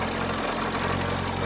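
A 1974 Honda Civic first-generation engine idles steadily during warm-up after a new clutch job, a continuous low rumble close to the listener.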